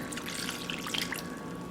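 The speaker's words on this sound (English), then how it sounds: "Now we're going to add water again" Water poured into a rock tumbler barrel during the 150/220 grit polishing stage makes a steady, fairly faint trickle and splash that runs unbroken for a couple of seconds, with no talking.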